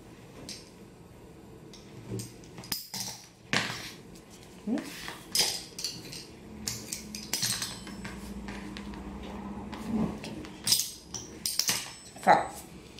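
Scissors snip through decorative ribbon for a Minnie Mouse cake, giving a series of short, close clicks and cuts amid light handling of tools on a table, with a voice speaking quietly now and then.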